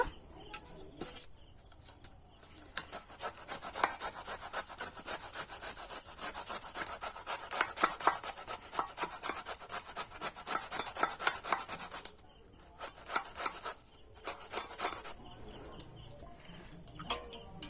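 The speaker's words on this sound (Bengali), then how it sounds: "সব লাউ এইভাবে গ্রেটার দিয়ে গ্রেট করে নেব" Bottle gourd rubbed against a metal kitchen grater for a sweet payesh, giving a steady run of close, rhythmic rasping strokes that pause briefly and then resume, with no talking.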